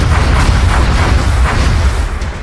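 Enemy gunfire in the video game XCOM Enemy Within comes as loud, heavy booming bursts, a rumbling barrage with repeated low thuds and crackle across the whole stretch.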